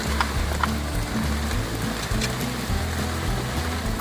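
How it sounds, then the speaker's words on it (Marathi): Heavy downpour pounding outdoors at a rainy open-air cooking spot, a steady dense hiss with a low rumble beneath, continuous and fairly loud throughout. "पाणी इतका जोराचा पाऊस पडतोय ना ह्या बाजूला बघा"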